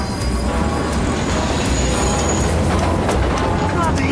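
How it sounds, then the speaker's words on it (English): A moving train rumbles loudly and steadily, with rail clatter and a few high metallic squeals running over the continuous low roar, and voices mixed in underneath. "Gordon, stop the bleeding train."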